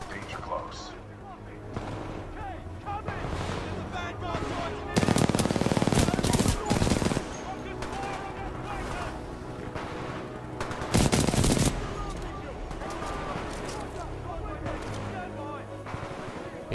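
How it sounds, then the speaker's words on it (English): Supporting machine gun fire in the video game Titanfall 2, heard as sustained rattling bursts under a dense battle mix, with two louder, heavier bursts standing out near the middle and later on. "Commencing supporting fire."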